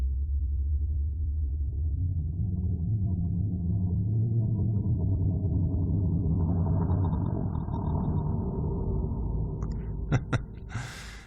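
Down-pitched Minecraft ghast scream effect with big church reverb, a deep, slow, moaning rumble that gradually rises and thins, ending in a few short crackling bursts.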